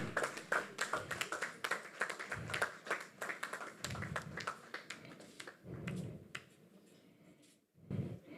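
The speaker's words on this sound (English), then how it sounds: "Round of applause for them." Scattered audience applause at a launch event, honouring the development team, with sharp individual claps in an irregular patter that thins toward the end, fairly quiet and distant.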